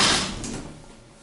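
The door of a vintage Armor traction elevator at a Macy's store slides shut in one brief, close whoosh that fades into a soft settling sound.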